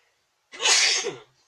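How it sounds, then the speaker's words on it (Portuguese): A single loud sneeze close to the microphone, a short explosive burst lasting under a second, with silence before and after. "Quando vê um espirro, não tem quem segura um espirro"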